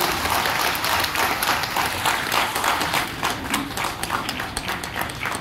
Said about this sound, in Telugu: ఒక్కసారి గట్టిగా చప్పట్లు కూడా ఆశీర్వదించండి